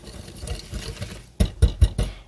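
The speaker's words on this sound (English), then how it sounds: "I'm adding the sugar, and I'm going to whisk that until it's all melted" A whisk stirs sugar into melted butter for oatmeal cookie dough, first a soft, busy scraping, then four or five sharper, louder knocking strokes against the bowl near the end.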